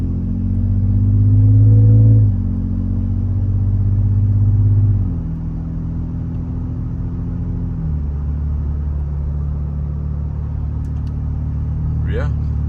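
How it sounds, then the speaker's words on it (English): Steady low exhaust hum and engine drone from a Toyota Tundra or Sequoia with an aftermarket exhaust while cruising, with small shifts in pitch as speed changes and no talk over it. "got a slight hum, but that's normal for an aftermarket exhaust"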